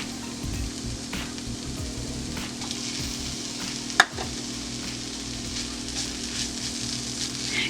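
Grated coconut goes into a pan of carrots cooking in milk, with a soft steady sizzle and stirring scrapes, and one sharp clack of a utensil midway; the sound is close and fairly quiet.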